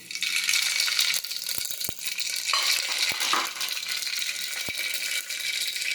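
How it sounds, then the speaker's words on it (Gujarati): Mustard seeds and cumin dropped into hot oil, a bright crackling sizzle with sharp popping spits scattered through, loud and close with no talking. "હવે આપણે તેમાં રાઈ અને જીરું નાખી દઈશું।"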